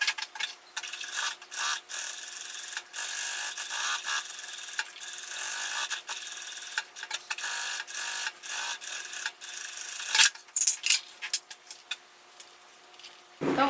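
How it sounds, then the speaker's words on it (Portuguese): A sewing machine runs a seam all around the synthetic leather lining of a cosmetic pouch, giving close, rhythmic bursts of stitching with short pauses between runs. "vou passar a costura em toda a volta e depois refilar o excesso de forro"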